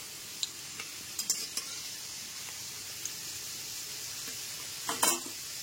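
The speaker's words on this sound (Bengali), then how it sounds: "গ্যাসের ফ্লেমটা লো টু মিডিয়ামে রেখে আলুর টুকরোগুলোকে 4 থেকে 5 মিনিট ধরে খুব ভালো করে ভেজে নেব" Potato pieces fry quietly over a low to medium gas flame, a faint continuous sizzle with occasional clinks of a spoon against the pan.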